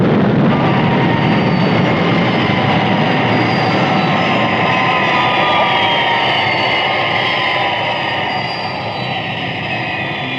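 Thunderbirds International Rescue aircraft descending vertically to land, a loud continuous roaring jet rumble with hissing upper whine, steady throughout and easing slightly near the end, with no voices.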